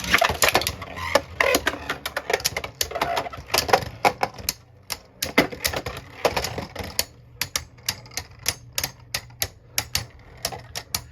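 Beyblade Burst spinning tops, Tact Leviathan among them, launched into a plastic stadium and battling, giving dense rapid clacking and rattling collisions that thin out into sharp separate knocks near the end, with no talk.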